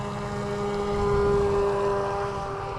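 A Traxxas Blast RC boat's electric motor runs steadily with a new propeller fitted, giving a continuous high-pitched whine that swells slightly in the middle and holds close and even throughout, with no talking.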